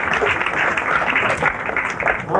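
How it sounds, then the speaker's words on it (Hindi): Applause from an audience at a film silver jubilee celebration and muhurat event, dense steady clapping filling the whole stretch at close, loud level, with faint voices mixed underneath. "तालियां एक बार फिर।"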